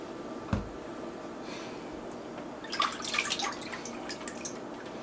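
Beef summer sausages lifted from a cold water bath drip and splash, scattered water drops and a small splash near the middle, moderately close and fairly quiet.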